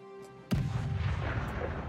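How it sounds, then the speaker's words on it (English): Artillery shelling in the World War II strategy game Cauldrons of War: Stalingrad: a single sharp, loud blast lands abruptly and rolls into a sustained low rumble of fire and debris, with no voices. "Should we shell again?"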